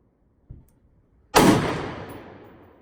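An AR rifle fires at an outdoor range: a faint distant pop comes first, then one loud, close crack with a long, decaying echo.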